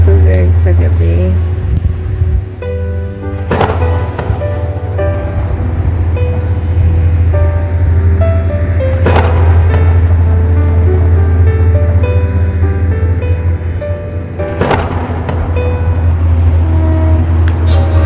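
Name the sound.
heavy rain at night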